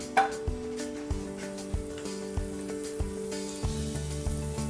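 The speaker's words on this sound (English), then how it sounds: "We can cut them in half and then we're gonna pan fry this." Mackerel (saba) halves pan frying in butter: a steady crackling sizzle runs throughout, beneath a rhythmic musical pulse with soft regular beats.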